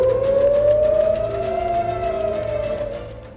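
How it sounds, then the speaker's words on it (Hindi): Air raid sirens wail across Israel during an Iranian missile attack, a loud, sustained civil defense tone that slowly rises and falls, with a second, lower siren overlapping in the distance. "ईरान के मिसाइल हमले के बाद हर तरफ सायरन बजने लगे"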